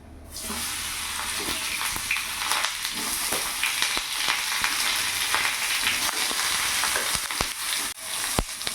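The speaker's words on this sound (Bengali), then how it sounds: "এবার ওই তেলের মধ্যে আমি বেগুনগুলো ভেজে নেবো" Eggplant pieces frying in hot oil, a steady loud sizzle with crackling pops and a few sharp clicks of a utensil against the pan, no talking.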